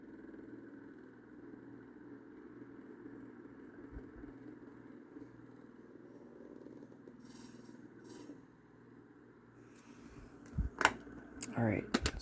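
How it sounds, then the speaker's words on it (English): A Windmere NR-9 9-inch oscillating desk fan running on low gives a steady mechanical hum with a rattling cage. It closes with a burst of louder, irregular clattering knocks. "Okay, low. Cage is rattling."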